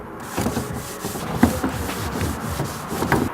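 A Scotch-Brite pad scrubs a freshly waxed snowboard base in a steady, rhythmic rubbing that stays close and moderately loud throughout.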